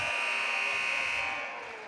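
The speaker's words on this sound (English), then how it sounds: "A buzzer beater by Griffin, her first field goal of the game" A loud, steady electronic buzzer sounds at the end of a period in a girls' high school basketball game between the Mount Pleasant Panthers and the Holy Trinity Catholic Crusaders, holding a sustained tone before trailing off.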